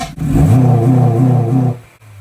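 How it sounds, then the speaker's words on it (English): A reflashed car engine holds steady on launch control, a loud buzzing rev with a slight rhythmic pulse for about a second and a half before cutting off abruptly. "thanks to the reflash, this thing has a very nice launch control"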